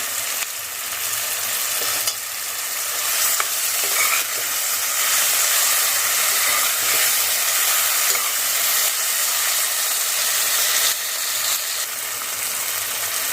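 Curry leaves sizzle steadily in hot oil in a pan while cooking South Indian moong dal khichdi, a loud, continuous bright hiss with faint stirring scrapes and no talk.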